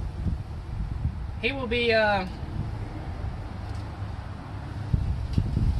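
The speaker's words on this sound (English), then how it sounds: "The wind is trying to stop me from talking" Gusty outdoor wind buffets the microphone as a steady low rumble throughout, swelling in places, with a brief stretch of someone talking near the middle.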